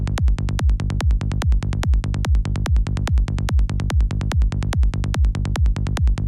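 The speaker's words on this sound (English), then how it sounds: "The kick and bass sounds like this." Psytrance kick drum and bassline with a deep tone, a steady fast pulse of punchy kicks and rolling bass notes looping without pause, loud and alone.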